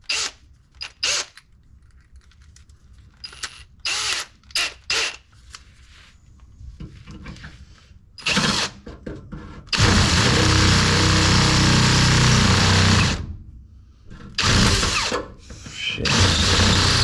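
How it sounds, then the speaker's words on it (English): Power drill running cheap drill bits from Menards during an external transmission filter kit install, heard as short bursts of drilling followed by one long sustained whine and a final burst, loud and close, separated by quiet gaps. "They're cheap drill bits I got from Menards, so it's not that big of a deal to me."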